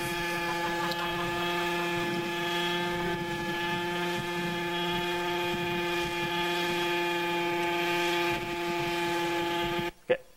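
Autonomous model helicopter hovering upside down, a steady, loud, continuous rotor and motor whine with strong sustained tones that holds nearly unchanged for about ten seconds, then cuts off abruptly near the end.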